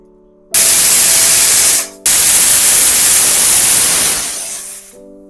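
A pressure cooker cooking chana dal lets out two loud bursts of steam hiss, a short one and then a longer one that slowly fades, with a faint hum in the gaps.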